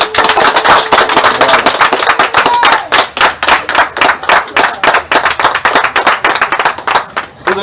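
Audience at a church gathering applauding together, a dense run of sharp claps that swells loud and steady for several seconds, with some rhythmic unison clapping near the end.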